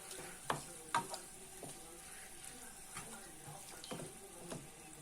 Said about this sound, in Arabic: خليهم يتقلوا شويه